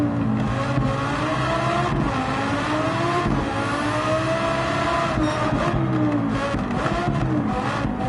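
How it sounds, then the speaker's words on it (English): A Nissan R35 GT-R Nismo safety car in Gran Turismo 7 at the Nürburgring Nordschleife, its engine roaring loud and close without a break, the pitch rising and falling through gear changes. "This is the R35 GTR safety car."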